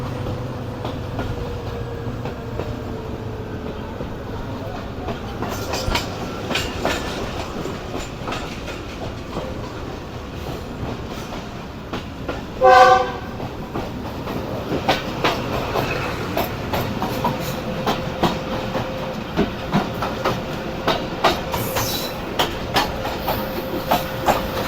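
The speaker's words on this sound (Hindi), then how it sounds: "डाउन अवाम एक्सप्रेस है ये।" An Awam Express passenger train hauled by a diesel locomotive passes at a station platform, a long steady rumble with rhythmic clickety-clack of wheels over rail joints and one brief loud horn blast midway.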